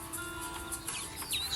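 Native chickens clucking in a backyard flock of hens, several soft, brief clucks and chirps scattered over a low steady background, fairly close and without talk.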